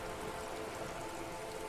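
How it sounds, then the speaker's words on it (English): Rain falls steadily in the video game Disco Elysium, a soft, even hiss of drops that stays constant and faint from start to finish. "The rain's freezing."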